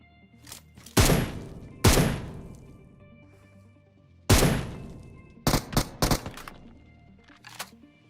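Gunfire in a shooter video game: a few sharp, loud single shots followed by a quick cluster of bursts and a fainter distant shot, heard alone without talk.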